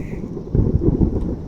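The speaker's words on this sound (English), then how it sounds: "That is a beautiful sound, that thunder." A low rumble of thunder rolls through a stormy garden setting, a single deep swelling boom lasting about a second, fairly close and loud with no voices.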